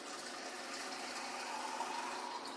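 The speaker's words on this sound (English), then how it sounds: "You fill enough with the water up to salt level." Water poured into jars for a salt water cure, a soft continuous trickle and gush of filling liquid, quiet and steady for a brief moment, with no talking.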